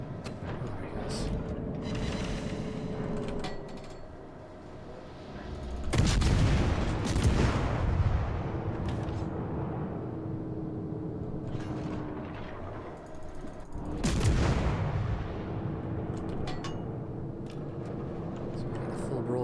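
Warship broadside artillery fire in World of Warships: two heavy booming salvos several seconds apart, each a broad rumbling blast that decays slowly over engine hum and a steady mechanical drone, with someone talking throughout.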